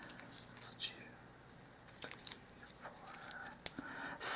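Pet nail trimmers snip through bamboo kitchen skewers, giving a few sharp, dry clicks and cracks spaced irregularly, close and fairly quiet, with soft handling noise between cuts.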